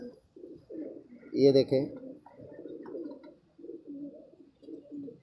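A pair of Zeera pigeons coo in soft, repeated rounds close by, with one louder coo in the middle, while someone speaks briefly over them.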